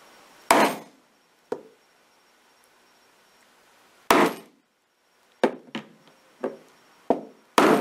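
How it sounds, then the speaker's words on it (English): A hole punch is struck through clutch purse material in a handful of sharp, close hammer whacks, a single blow, a pause, then a quicker cluster of strikes separated by near silence. "My hole punch is lined up. And now I'm just going to give it a few good whacks."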